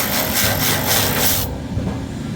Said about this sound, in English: Now I'm going to go ahead and just unscrew this bolt,